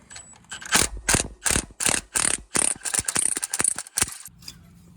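Ratchet wrench clicking in quick repeated bursts while backing out Allen bolts on a Polaris RZR XP 1000 turbo, the sharp pawl ratcheting close and distinct with brief pauses between strokes.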